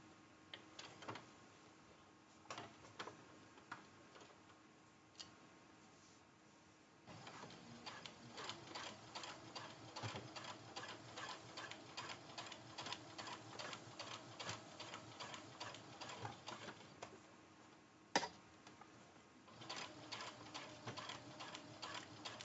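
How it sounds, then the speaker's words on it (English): A domestic sewing machine runs a basting stitch along the seam of a fabric zipper pouch, giving a steady fast mechanical ticking that pauses briefly and resumes in longer runs, close but quiet, with no talking. "I'm sewing, keeping my raw edges together and making sure that my edges are running along the side of my presser foot"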